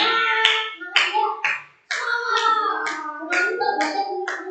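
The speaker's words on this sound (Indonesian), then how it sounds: "Beri tepuk tangan kelompok 2." A group in a classroom claps in short rhythmic bursts with a brief pause, and children's voices chant along with the claps.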